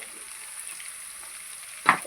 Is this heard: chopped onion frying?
yes